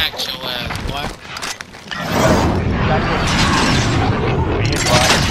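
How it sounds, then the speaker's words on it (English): Cruise missile explosion in Call of Duty: Modern Warfare, a sudden loud, sustained rumbling blast with crackling debris that swells about two seconds in and holds, following busier game noise. "Cruise missile."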